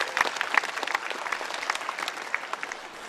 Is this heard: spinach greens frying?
no